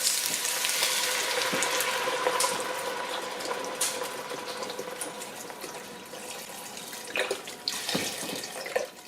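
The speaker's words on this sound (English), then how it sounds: "I'm rinsing the box out. I've got about a half of a box of water" Tap water runs steadily into a beef stock carton as it is rinsed out in a home kitchen, a continuous close hiss and splash with small clinks, without speech.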